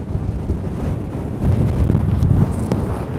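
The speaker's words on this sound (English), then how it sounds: "It's very windy." Strong wind at a volcano buffets the microphone with a constant low roar and rumbling gusts, loud and close throughout.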